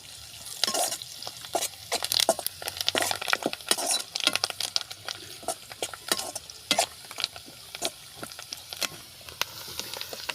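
Cumin and mustard seeds dropped together into hot oil while making tarri pohe, crackling and spitting in rapid, irregular bursts close up, with a few light clinks from the pan.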